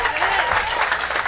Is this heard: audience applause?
yes